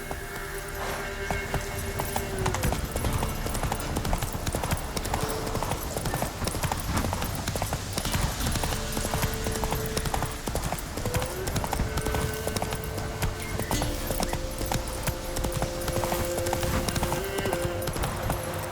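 Roach, a horse in The Witcher 3 on PS5, clip-clops at a steady walking or trotting pace, hoofbeats continuous and fairly loud over a dense bed of game music and ambience, with a voice speaking briefly.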